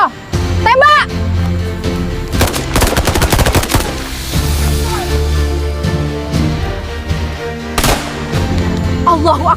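Gunfire bursts out as soldiers shoot at an enemy in a staged Acehnese battle scene. Rapid volleys and single shots ring out loudly over shouting voices and music.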